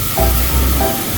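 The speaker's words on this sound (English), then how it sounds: "Keep spraying it, you good." Water sprayed steadily over a dirty 1991 Harley Davidson Electraglide barn find, a loud continuous hissing rush close by with no speech.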